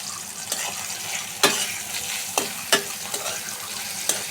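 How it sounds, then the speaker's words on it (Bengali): Onions frying in a pan, a continuous close sizzle punctuated by several sharp spatula knocks and stirring clicks, no voices. "পেঁয়াজটাকে একটু ভাজা ভাজা করে নেব।"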